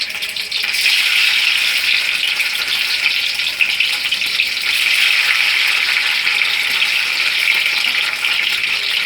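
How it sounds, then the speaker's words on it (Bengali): Paneer pieces dropped into hot oil, giving a loud, dense, continuous hiss of frying that holds steady for several seconds, close up and alone with no voices. "তেলটা গরম হয়ে গেছে, আমি পনিরগুলোকে দিয়ে দিচ্ছি।"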